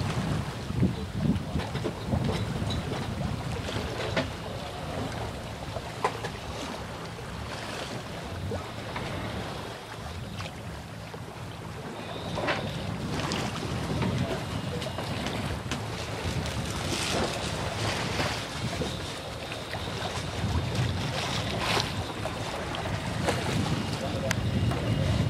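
Sailboat moving slowly under sail toward the Solent, with steady wind buffeting the microphone, water rushing and lapping along the hull, and occasional knocks from the boat.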